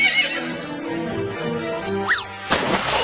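A horse neighs loudly and close, a long tonal whinny with rising and falling pitch that ends in a sharp burst, heard alone without talking.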